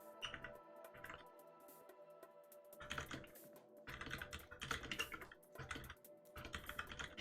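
Computer keyboard keys pressed in short bursts for editing shortcuts such as arrow keys, Home and End, a run of clicky taps with brief pauses between clusters, close and moderately loud.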